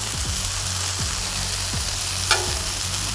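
Burger patties frying and browning on a hot griddle give off a loud, steady sizzle with a few low thumps and one sharp metallic tap, close by and without speech.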